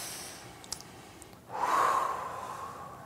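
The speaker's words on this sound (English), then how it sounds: "Take a deep breath." A single deep, slow breath drawn in audibly through the nose and held, close and fairly loud, after a moment of quiet, during a tapping relaxation exercise.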